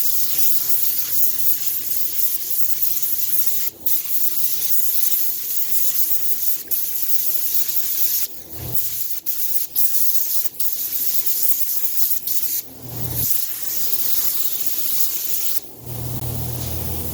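Spray gun laying down Black Widow metallic paint, a continuous close, loud airy hiss with brief pauses between passes as the trigger is released and pressed again.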